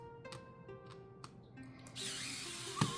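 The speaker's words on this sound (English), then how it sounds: "I don't know if I like this electric screwdriver." An electric magnetic screwdriver removes screws from a Nintendo Switch Lite, giving short, close whirring bursts with a thin motor whine and a sharper final spin.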